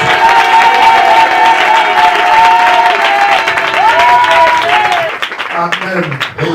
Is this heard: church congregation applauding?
yes